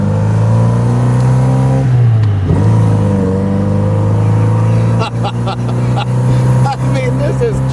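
A 1964 Triumph TR4 roadster with the top down drives with a steady, loud engine drone, a dip and rise as gears are shifted, then clattering bumps later on.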